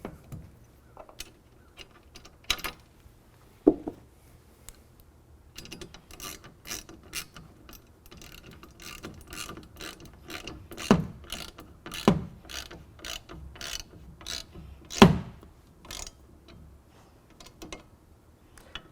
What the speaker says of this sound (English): you've got a provided Allen head tool to tighten that down